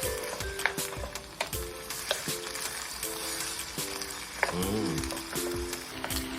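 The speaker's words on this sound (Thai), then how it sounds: "ผัดจนเนื้อจระเข้ของเราสุกแล้วนะครับ" Crocodile meat stir-fried in a pan, a loud sizzle broken by repeated rhythmic clanks and scrapes of the spatula against the wok, heard close up.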